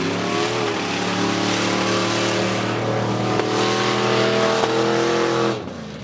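Chevy step-side trucks race at a mud drag, engines roaring loud and close with a sustained, rising drone that holds steady before cutting off abruptly near the end.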